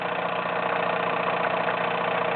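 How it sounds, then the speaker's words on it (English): A Wilesco D21 toy steam engine, gas-fired, with a water tower and hand feed pump, runs steadily with a continuous mid-pitched mechanical whir and hiss, close and even throughout with no talk. "That's the D21 engine, Emily,"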